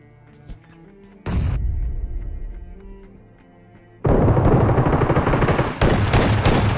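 Gunfire aimed at a petrol can in the mobile battle royale game BGMI: a loud burst of rapid shots, a pause, then longer sustained automatic fire. The shots are close and dense, and no one speaks.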